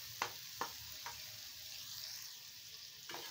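Bengali-style egg bhurji fries over a low flame in a kadhai, a soft steady sizzle broken by a few sharp scrapes and taps as it is stirred, nearby with no talking.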